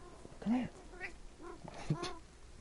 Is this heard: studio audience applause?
no